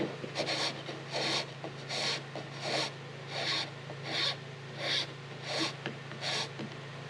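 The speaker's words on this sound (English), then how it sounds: "I just have to sand that out" Hand sanding a wooden cutting board, with rhythmic back-and-forth scratchy strokes in regular bursts, about nine passes, close and fairly quiet.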